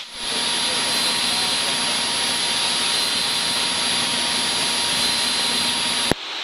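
Steady, droning engine noise inside a Cessna light aircraft in flight, continuous and fairly loud before a brief click near the end.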